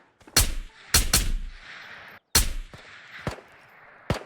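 Enemy gunfire in the video game Ghosts of Tabor, a run of loud, close shots with sharp cracks and ringing tails, several single shots and a quick pair spaced irregularly over a few seconds with no talking.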